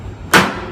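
Hammer striking a cold cast metal medallion held with pliers to knock it free of its sand mold gates, a single sharp close metallic whack with a short ringing decay after quiet.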